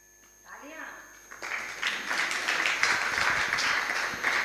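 Audience applause at a Jain religious discourse by a nun, swelling after a brief voice and continuing as a dense, sustained wash of many hands clapping.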